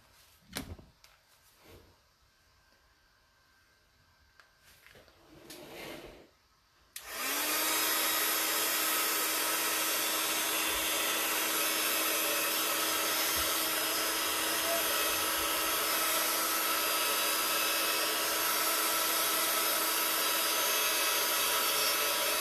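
A hair dryer drying Lindy's Gang Magicals craft paint switches on after several seconds of quiet handling noises, then blows as a loud, steady, continuous whoosh until the end.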